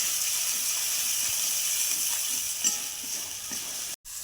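Chicken mince frying with chilli, coriander and cumin powders in a pan, giving a steady close sizzling hiss with faint scraping stirs and a brief dropout near the end.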